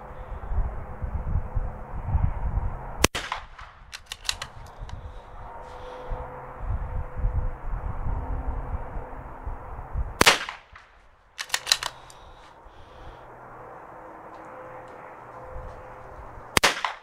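Rifle shots fired with Remington Government Surplus ammunition at a 100-yard range, three sharp loud cracks spaced several seconds apart, each with a short echo tail over steady outdoor background noise.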